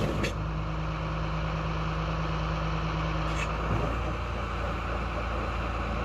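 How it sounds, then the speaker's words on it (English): A MeriCrusher forestry mulcher runs steadily, its engine droning and rotor spinning through a raised-machine transmission and safety-clutch demonstration, a continuous loud mechanical hum with a low tone that drops out near the end. "When I raise the machine, rotor starts rotating again."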